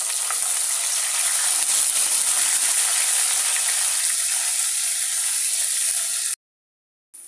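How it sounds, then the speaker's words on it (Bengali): Garlic paste sizzling with lightly browned fried onions in a pan for a red lentil dish with Malabar spinach: a steady, loud, close frying hiss running several seconds before cutting off abruptly. "পেঁয়াজগুলো হালকা লাল করে ভেজে নিয়েছি রসুন বাটা দিয়ে দিব হাফ টেবিল চামচ"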